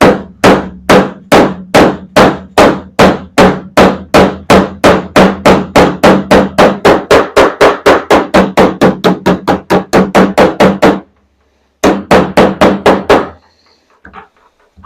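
A hammer strikes the dented metal of a car door again and again in a fast, steady rhythm of loud, sharp, ringing blows, pausing briefly before a final burst of hits.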